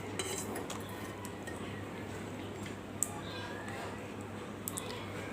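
A cooking pot and utensils clinking as washed, fried red lentils go into the pan for a taro-leaf dish, a few faint metallic taps and scrapes over a low steady hum, quiet and close.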